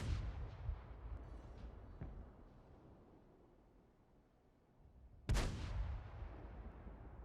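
Tank cannons fire in a World of Tanks-style game, two heavy booming shots several seconds apart, each with a sharp crack and a long rumbling tail over a low battle background.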